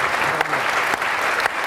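Conference attendees applaud a panel at a health coverage launch event with steady, full clapping from a crowd throughout the short stretch, and a few sharper individual claps stand out.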